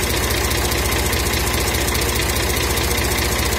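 A tractor engine idles steadily up close, a loud continuous rumbling chug with an even, rapid knocking rhythm throughout.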